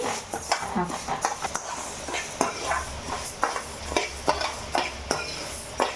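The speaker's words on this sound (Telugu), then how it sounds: "స్టవ్ ఆన్ చేసుకొని ఒక కడాయి పెట్టుకొని తీసుకున్నటువంటి పొట్టు మినపప్పుని డ్రై రోస్ట్ చేసుకోవాలి." Split black gram dry roasting in a kadai over a low flame, with a spoon scraping and stirring in repeated sharp strokes over a soft steady rustle.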